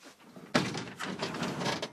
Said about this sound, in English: Got to open the garage door.